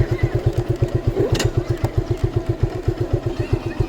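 A motorcycle engine runs at a steady, rapid, even putter during bike-riding practice, close and fairly loud, with a few faint clicks and clatter on top and no talking.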